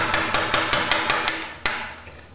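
A hammer or mallet strikes a chisel to pare thin shavings from wood, giving about eight sharp, evenly spaced taps at close range with one harder blow after a pause.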